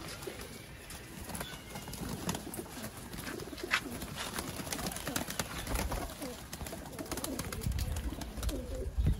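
An old Sialkoti pigeon coos and rustles while being held in the hand, its soft calls and fluttering set against a steady, noisy background with faint voices nearby.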